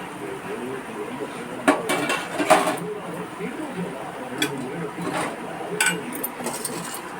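Fried squid is moved into a cooking vessel with scattered metallic clinks and scrapes of utensils against the pan, close and moderately loud, while a person talks quietly in the background.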